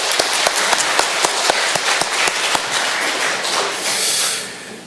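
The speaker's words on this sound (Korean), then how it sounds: "우리 찬양대한테 더욱더 멋진 찬양대 되라고 하면 격려의 박수 한번 다시 할까요?" A church congregation bursts into sustained applause for its choir during a Sunday service, dense overlapping claps with a few sharper standout claps, steady and loud for about four seconds before fading.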